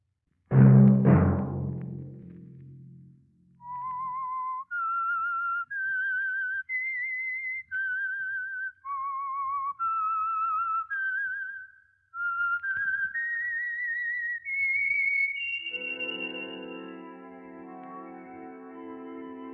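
A single person whistles a bright, stepwise tune of short held notes, the signal tune of the radio mystery program The Whistler, alone, ending on a sustained chord of musical tones.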